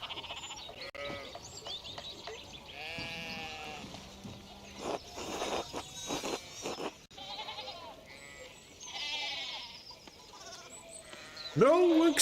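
Sheep in the medieval village game Pentiment bleat repeatedly, several calls overlapping at close range over a steady ambient bed, with a louder, sharper bleat near the end.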